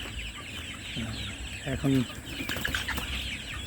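Chickens cluck close by, with a short burst of louder clucks in the middle over faint background noise, and a person briefly speaks.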